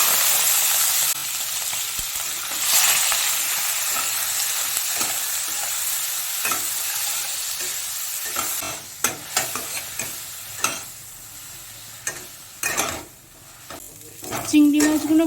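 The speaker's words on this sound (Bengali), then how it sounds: "তেলটা গরম হয়ে গেছে। আর এই যে এখানে 200 গ্রাম চিংড়ি নিয়ে নিয়েছি। এবার চিংড়ি মাছগুলোকে ভেজে নেব।" Shrimp, about 200 grams, frying in hot mustard oil in a kadai, with a loud, steady sizzle throughout, overlaid by scraping and clattering as the pieces are stirred, growing patchier near the end.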